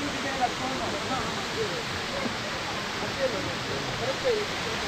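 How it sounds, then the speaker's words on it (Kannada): Steady broadband rush of Vattavada Silver Falls, a waterfall in the Kerala highlands near Munnar, reached on foot through private property. The roar is continuous and even, with faint voices and small sounds scattered underneath. "ಇದು ಬಂದು ಒಟ್ಟವಾಡ ಸಿಲ್ವರ್ ಫಾಲ್ಸ್ ಅಂತ"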